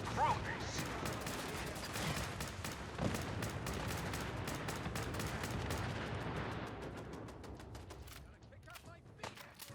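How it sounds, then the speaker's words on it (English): Dense bursts of gunfire and explosions from the Fallout 4 video game crackle continuously in rapid, overlapping volleys, fairly distant and muffled, thinning out toward the end. "Enjoying the explosions, Ernie?"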